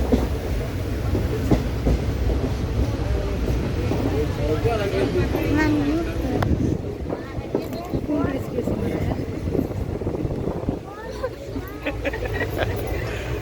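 A passenger train on the Dharwad to Bangalore route rolls along the rails with a steady, loud rumble and rattle throughout. A babble of voices from people on board runs underneath.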